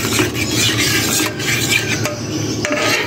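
Fried carrots being stirred into a pot of kheer, a continuous close scraping and sloshing of a spoon against the vessel for a few seconds, no voices.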